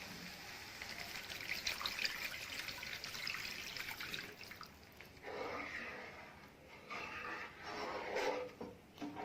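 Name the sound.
cornflour-water mixture poured into the pan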